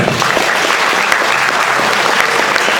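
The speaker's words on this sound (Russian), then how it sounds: "Давайте поаплодируем себе всем, кто собрался здесь в этом зале." A large crowd in a hall at a formal ceremony applauds steadily and loudly, a dense wash of clapping that holds without pause.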